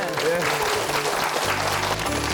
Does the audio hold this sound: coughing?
no